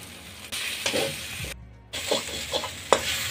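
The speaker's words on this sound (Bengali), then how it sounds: "আবারও আমি চুলোয় জাল করে নেব এবং নাড়তে থাকব।" Mashed lote fish frying in a pan on the stove, stirred with coriander leaves, a steady sizzle broken by scraping strokes and one short silent gap.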